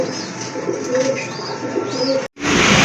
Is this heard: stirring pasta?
no